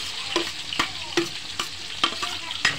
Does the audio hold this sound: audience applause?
no